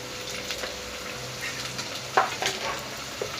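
Spices such as asafoetida, chilli masala and turmeric fry quietly in a pan for a mutton curry, a soft steady sizzle with a few scattered pops and stirring scrapes.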